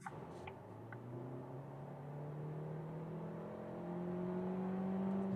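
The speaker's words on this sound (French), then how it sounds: "D'abord, une accélération rapide de 70 à 120, c'est parti." A 2027 Kia Seltos petrol car without hybrid assistance accelerates hard from 70 on a motorway, engine pitch climbing steadily under road and wind noise heard from inside the cabin, with no talk.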